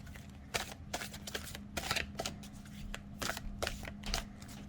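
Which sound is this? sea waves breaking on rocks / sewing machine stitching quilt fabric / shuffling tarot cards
shuffling tarot cards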